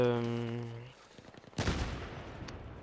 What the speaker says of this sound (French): Alors je joue avec la RPK qui est l'une de mes armes préférées dans le jeu, avec la M16.